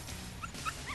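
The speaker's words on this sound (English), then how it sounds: "Oh, look, a puppy." Anime puppy letting out small whimpers and light yips, a few brief high cries close by over a quiet background, with no talking.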